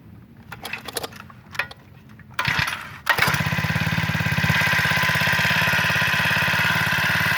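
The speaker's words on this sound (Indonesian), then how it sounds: "Kita nyalain mesinnya." A four-stroke Thai-style grass cutter engine is pulled a few times, then catches and settles into a steady, even idle, close and fairly loud with a smooth rapid pulse.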